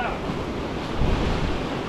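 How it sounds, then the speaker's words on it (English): Large ocean waves crash on the shore at night, a loud, continuous roar of surf with heavy wind buffeting the microphone and a swell of breaking water midway. "oh, the waves are massive"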